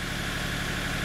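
A turbocharged Kubota diesel swapped into a Geo Metro idles steadily, a close, even, rhythmic chug that continues unbroken with no voices over it.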